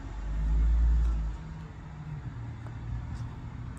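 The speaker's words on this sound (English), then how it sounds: "And this car is parking right next to me." A car parking right alongside, its engine swelling into a low, loud rumble as it pulls in close, then settling into a steady idle hum.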